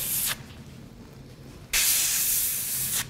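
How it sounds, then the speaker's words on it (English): An airbrush spraying paint for a test on a latex mask, in two bursts, a short hiss then a longer steady one after a pause, close and fairly loud. "tighten up my spray pattern a little bit"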